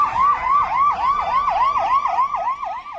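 Ambulance sirens racing to a shooting scene in the north of Jerusalem, a loud, steady wail rising and falling in quick repeating sweeps, with no voices over it.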